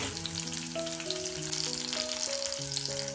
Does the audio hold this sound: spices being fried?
yes